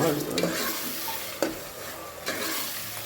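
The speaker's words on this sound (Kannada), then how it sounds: "ಟೊಮೆಟೊ ತಗೊಂಡು ಹಾಕಿ ಮಿಕ್ಸ್ ಮಾಡಿ" Tomato stirred into goat leg gravy in a hot pan: a steady sizzle of frying under repeated scraping spoon strokes, with a couple of sharper scrapes standing out, close and clear with no talking.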